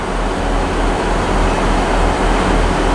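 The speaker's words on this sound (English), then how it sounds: "1655 ScotRail service, starting here at Aberdeen to Inverurie." A ScotRail class 158 diesel train at Aberdeen station rumbles loudly and continuously, a steady close-up drone of engine and carriage noise with no speech.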